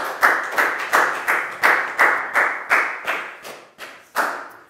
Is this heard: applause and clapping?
yes